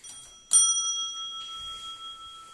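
A small bell struck once with a bright metallic ding that rings on with a long sustained fade, heard alone in a quiet room.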